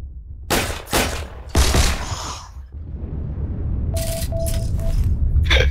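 Several loud gunshots from a World War II era shooter, a few separate sharp cracks early on, then a quicker burst of shots near the end over steady background noise.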